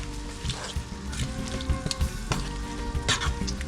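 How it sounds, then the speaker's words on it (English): Julienned peppers sizzle in a pan of onion, garlic and olive oil for a Spanish chicken stew. The frying crackles up close with a steady hiss, and the vegetables are moved around amid light stirring scrapes. "I'm going to drop the peppers that I cut Julianne style, and I'm going to move it in that mix of onion and garlic"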